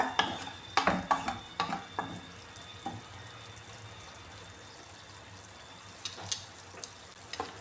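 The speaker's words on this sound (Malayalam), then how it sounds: "ഇനി ഇതൊന്ന് ഇളക്കി കൊടുക്കാമേ" Banana erissery gets stirred in a pot, with a few scraping clatters of the spoon early and near the end over a soft simmering bubble, quiet in between.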